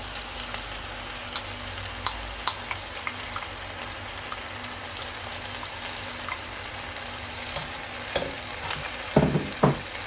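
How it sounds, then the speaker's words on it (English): Cream and egg mixture poured into a pan for pasta carbonara, giving a low steady sizzle with soft scraping and stirring clicks, then a few louder clatters near the end. "then we add our cream and egg mixture"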